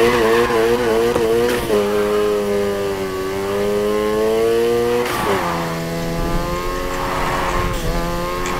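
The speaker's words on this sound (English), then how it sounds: "First up, let's hit a basic drift. Remember, slam on the gas and steer. You're drifting." A Mazda RX7 drifting in the Need for Speed Heat racing game, a loud continuous tire squeal with sliding pitch that dips and rises as the car swings, under a droning engine, sustained for the whole stretch.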